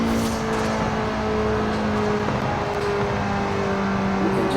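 A stock-engined Mazda Miata MX-5 in Forza Horizon 4 accelerating hard: a loud, steady engine drone whose pitch climbs slowly through the gear, close and continuous, with no talking.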